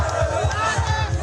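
Bangladesh cricket fans cheering and shouting jubilantly in a dense crowd, a loud continuous roar of overlapping voices with rhythmic chant-like pulses.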